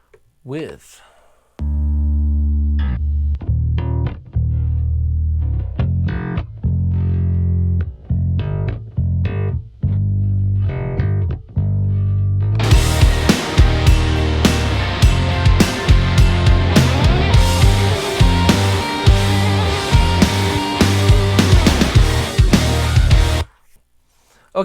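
A soloed electronic bass line plays dry at first, then turns bright and gritty once heavy distortion processing kicks in partway through, loud and continuous with punchy repeated notes and no voices.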